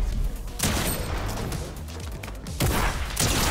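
Pump shotgun blasts in Fortnite, two heavy, loud shots about two seconds apart, each with a short rumbling tail, among other game noise.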